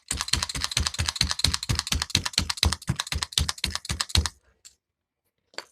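A felting needle jabs wool rapidly into a patch over a hole, making a fast, even run of close, sharp taps for about four seconds, then two isolated taps after a pause.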